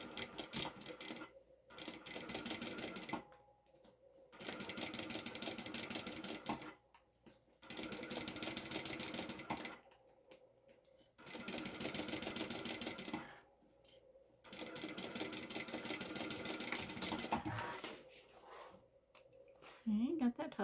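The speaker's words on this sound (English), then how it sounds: "Now I have to be careful on this top stitch because I'm using my black thread on a white material." A sewing machine top stitches black thread on white material, running in steady bursts of a few seconds each with short pauses between, close and fairly loud throughout.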